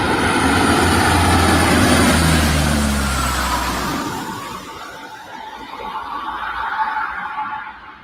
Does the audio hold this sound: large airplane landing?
yes